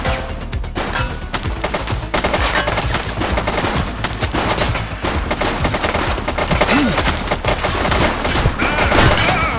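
Rapid gunfire in The Precinct police video game rattles out in dense, loud machine-gun bursts and fusillades, sustained almost without pause throughout.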